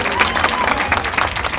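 Audience applause at a live comedy-music show in Birmingham, a dense steady patter of many hands clapping throughout with crowd noise mixed in.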